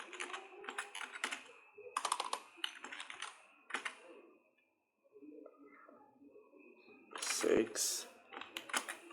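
Computer keyboard typing while entering table fields in Microsoft Access, bursts of quick close clicks in uneven runs with a short pause midway, mixed with a person talking.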